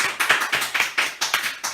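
A small studio audience claps briefly, a handful of sharp, close hand claps at a quick uneven rhythm, about eight or nine distinct hits over under two seconds.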